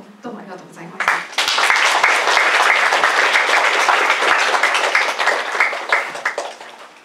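An audience applauds after a seminar presentation preparing candidates for the oral exam for licensed guide-interpreters, a sustained burst of dense clapping that swells after a brief voice and holds steady before tapering at the end.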